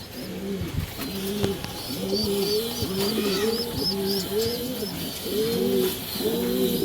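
Pigeons coo steadily at close range during feeding, their low rolling calls repeating in overlapping phrases, with light chirps and faint taps in the background.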